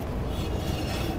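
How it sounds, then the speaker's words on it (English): On an electric trailer brake assembly, the brake shoes rub against the drum as the hub spins, making a continuous low, rough grinding rumble at steady volume with no voices. "The grinding noise you're hearing are our brake shoes rubbing against our drum."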